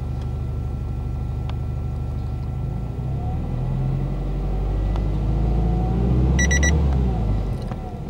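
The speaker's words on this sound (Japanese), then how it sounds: "これで2000回転でレボンが鳴るという形になります" A Subaru Impreza STI engine idles and rumbles steadily, then the rev warning buzzer, set to 2000 rpm, sounds a short burst of high electronic beeping near the end over the engine noise.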